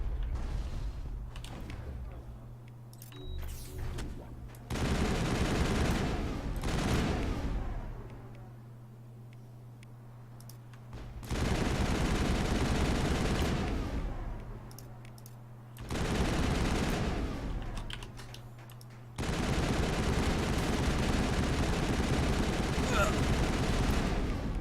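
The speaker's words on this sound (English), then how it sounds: "Maybe I was shooting at this vehicle." Bursts of gunfire in the video game Mass Effect, played on Insanity difficulty, come in repeated rapid volleys that alternate with quieter gaps, fairly loud and mechanical.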